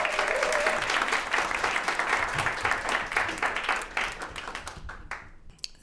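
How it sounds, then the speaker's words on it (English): A live storytelling-night audience in New York applauds a final storyteller, dense steady clapping filling the room for about five seconds before tapering off into a few scattered claps. "how about a huge round of applause for our final storyteller of the evening"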